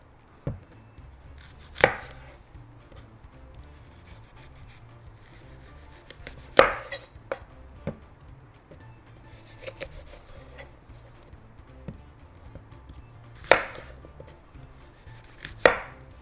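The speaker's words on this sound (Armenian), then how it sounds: "Կտրատում ենք խնձորները։" Knife chopping apples on a cutting board for a sweet sujukh salad, with sparse, irregular sharp knocks spread across the stretch and a low background murmur between strokes.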